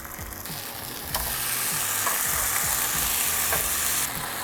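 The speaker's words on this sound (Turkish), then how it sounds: "Ve kerevizlerle beraber kızartalım." Celery and bread fry in a hot pan with mayonnaise, a continuous bright sizzle that swells louder after a second, with occasional soft stirring and scraping knocks.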